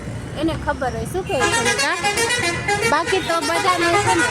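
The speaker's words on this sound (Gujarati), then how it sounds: "આગળ થોડોક વાહનનો અવાજ વધારે આવે છે" Busy road traffic with a bus and other vehicles passing close by, their horns honking repeatedly and loudly in overlapping toots under people talking nearby.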